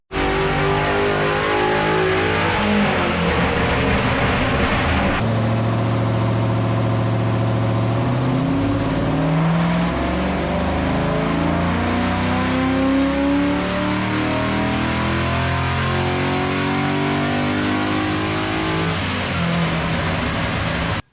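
A tuned 6.0L LS V8 engine revs hard, climbing and falling in loud, throaty sweeps, with a sharp surge partway through and a sustained roar to the end.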